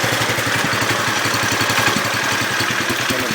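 A Honda Cub motorcycle engine idles after a cold start, a steady rapid putter of close, even exhaust pulses running throughout with no talk over it.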